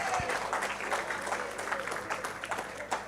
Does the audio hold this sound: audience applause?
yes